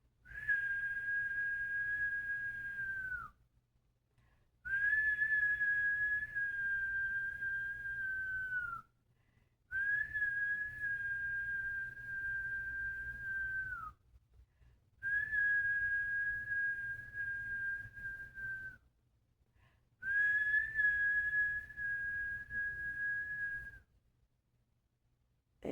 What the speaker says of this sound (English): I blow the whistle.